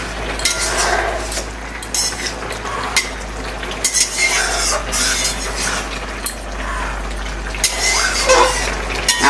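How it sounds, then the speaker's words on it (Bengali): Tempering spices sizzling in hot oil for a spinach and rohu fish curry, a loud frying hiss with stirring clinks and utensil scrapes against the pan, close and ongoing with several bursts of stronger sizzle. "এখন জাস্ট শুধু সম্বরাটা দেবো।"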